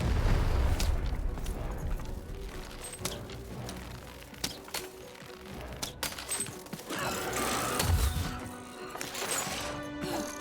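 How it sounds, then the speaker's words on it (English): Cannon fire in the video game Lost In Random, with booming blasts and crashing impacts scattered over busy game music and effects at moderate loudness. "Shoot the button to fire the cannon."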